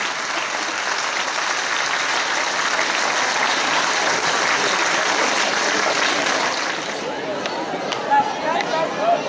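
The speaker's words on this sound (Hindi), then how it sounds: "इतनी बड़ी तालियों से इन बच्चों की मदद अदाई होनी चाहिए" Auditorium audience applause, a broad sustained wash of many hands clapping at fairly steady loudness, thinning out near the end as a few scattered claps and voices remain.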